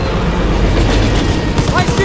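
A train in the World War II shooter Call of Duty WWII rumbles and clatters loudly and continuously, mixed with battle noise and shouting voices.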